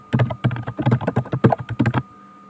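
IP address being typed on a computer keyboard: a steady run of close, crisp key clicks for about two seconds, then quiet.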